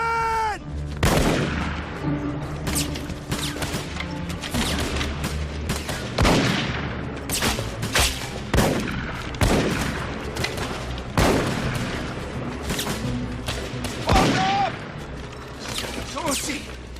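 Musket volley fire at a Civil War reenactment battle outdoors, many sharp cracking shots ringing out irregularly and repeatedly over about seventeen seconds, near and far, with shouted voices between them.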